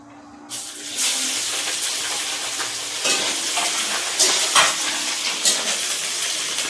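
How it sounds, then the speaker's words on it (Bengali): Onions and garlic fry in hot oil in a home kitchen where pangas fish head curry is being cooked, giving a loud, steady sizzle with occasional stirring scrapes, close up and without speech. "লাল লাল করে ভেজে নেবো পেঁয়াজ রসুন"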